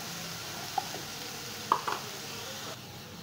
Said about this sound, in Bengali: এগুলো মিশিয়ে দিয়ে আমি আবার ভালো করে পেঁয়াজের সঙ্গে সাঁতলে নিচ্ছি।